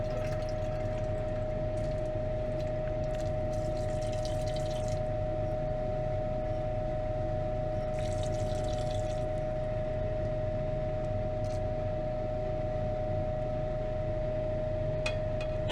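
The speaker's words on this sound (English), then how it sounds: "Just gonna rinse all this black material off now with some water." Water running steadily to rinse black residue off material during platinum refining from stock pot, a continuous splashing flow with a constant pump-like hum, occasional brief drips and hisses, heard close with no talk.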